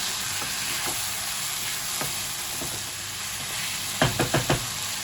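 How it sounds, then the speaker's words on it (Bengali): Fried chicken sautéed in masala for chicken bhuna gives a steady, close sizzle, with a quick run of spoon scrapes and clatters near the end. "এবার চিকেনটা ভালো করে কষাবো।"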